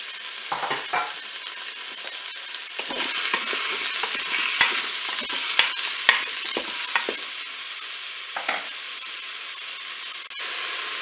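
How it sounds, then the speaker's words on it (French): Beef meatballs and button mushrooms sizzle steadily in a Cookeo multicooker, with a continuous frying hiss broken by scraping stirs and occasional clicks of the utensil against the pot. "je vais pouvoir faire revenir mes boulettes de bœuf"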